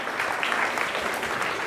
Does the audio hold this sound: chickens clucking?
no